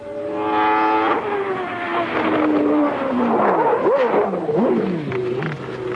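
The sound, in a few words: Formula 1 race car engine at Brazilian Grand Prix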